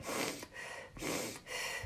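A person demonstrates rapid breathing at about one breath per second, with loud, close, rhythmic breaths repeating quickly and no talking.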